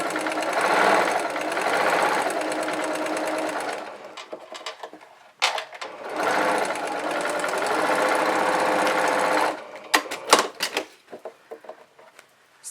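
A sewing machine stitches across matched seams on cloth face masks, finishing with a back stitch. It runs in two steady, close whirring bursts separated by a short pause, followed by a few scattered clicks and knocks.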